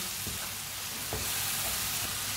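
Spices sizzling and frying in hot oil in a pan for a Daal Karela dish, a steady close crackling hiss with a few soft stirring knocks, no voices.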